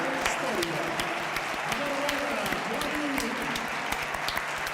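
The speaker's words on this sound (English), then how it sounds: "Round of applause, come on, guys, for Lamine Yamal, the youngster." Stadium crowd at the Olympic Stadium in Montjuïc during an FC Barcelona versus Leganés La Liga match, steady applause with scattered sharp claps, heard at a moderate distance with voices mixed in.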